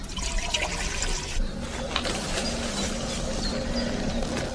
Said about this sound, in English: Let's carefully open our lid and pour in some water.